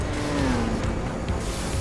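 A Nissan Skyline race car engine in Gran Turismo 4 revs and shifts pitch, a raspy drone that climbs then drops, loud and close with no talking.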